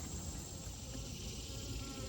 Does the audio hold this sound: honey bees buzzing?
yes